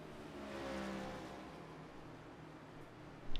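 Gen7 stock race car at Pocono in the iRacing sim passing by, a faint engine drone swelling and fading briefly under the player's own car noise.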